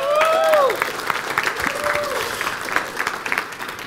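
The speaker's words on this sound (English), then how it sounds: "Give David a huge round of applause." An audience bursts into applause and cheering for a man called up during a talk, a loud dense wash of clapping with a whoop at the start that slowly thins out.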